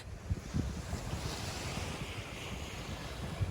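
Ocean surf rolling onto Geiger Beach in Nusa Dua, Bali, a steady wash of waves mixed with gusty wind buffeting the microphone, moderately loud and continuous with no voices.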